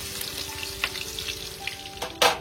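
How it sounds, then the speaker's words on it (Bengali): Onions frying in a pan for biryani birista, producing a continuous near sizzle with occasional stirring scrapes and a sharp clatter near the end, no talk. "এবার আমি পেঁয়াজগুলো ভেজে নেবো বিরিয়ানির বেরেস্তা করার জন্য"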